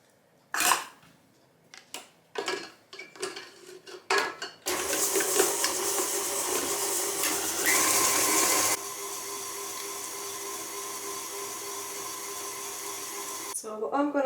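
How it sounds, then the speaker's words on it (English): Butter and sugar beaten together in a mixing bowl for sugar cookies, first as scattered clinks and scrapes, then a steady loud whirring beater running continuously, dropping to a lower drone near the end. "So let's use a cup of sugar, I've got a cup of butter in there, and beat this together"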